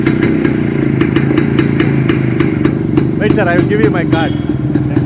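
A vintage 1979 Yezdi motorcycle idles close by with a steady, loud, rhythmic two-stroke thrum and put-put beat while someone speaks over it.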